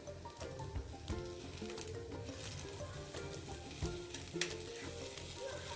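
Butter melting on a beetroot dosa on a hot pan, a dense continuous sizzle and crackle with frequent small pops, close and steady.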